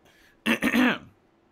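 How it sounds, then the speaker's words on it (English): A single close, loud throat clearing, a short rough rasp in two quick pushes, alone against a quiet background. "Sorry, I'm trying to clear my throat here."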